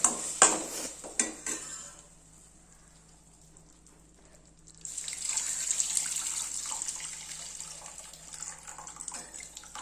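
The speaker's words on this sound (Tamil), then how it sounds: "புளி தண்ணியை ஊற்றிக்கலாம்." Tamarind water is poured into a pan of sautéed tomato for garlic-pepper rasam, a steady watery splash and sizzle building after a few clinks of utensils and a quiet pause.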